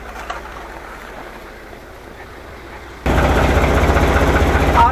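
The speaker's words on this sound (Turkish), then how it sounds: "şu an traktörümüz ısındı. Onu çalıştırdık." After a quiet stretch, a warmed-up tractor engine suddenly starts up close by in deep snow and keeps running loudly, a steady low chugging rumble.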